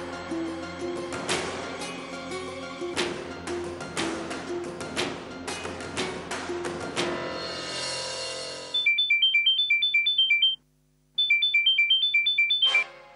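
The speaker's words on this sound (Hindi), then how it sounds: "एक बार मेरा फोन उठा लो।" Mobile phone ringtone playing a melodic tune at first, then switching to a repeating electronic ringing pattern in two clear bursts with a brief gap between.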